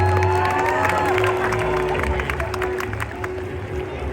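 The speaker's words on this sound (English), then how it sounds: "Everyone give Len a big round of applause" Large crowd at a SeaWorld San Diego orca show applauding and cheering in a steady, dense roar of clapping, with scattered whoops and a show announcer's voice over the arena.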